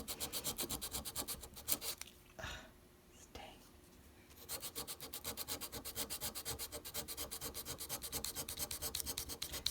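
A belt sander grinds excess solder off metal in a studio, its motor running steadily with a rhythmic scraping rasp that drops away briefly in the middle before resuming loud and continuous.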